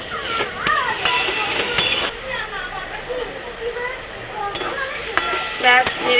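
A spatula scrapes and clinks through snake gourd poppy-seed curry in a pan as sugar is stirred in. Soft sizzling runs underneath, and someone talks over the stirring.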